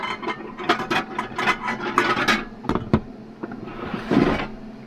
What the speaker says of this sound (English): I'm going to get my bowl out. A very noisy bowl.